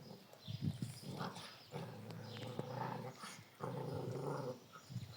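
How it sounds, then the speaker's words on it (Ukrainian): A dog growls low and rumbling from close by in a village yard, in uneven bursts with brief pauses, fairly quiet overall. "А хто тебе трогає, що ти гарчиш?"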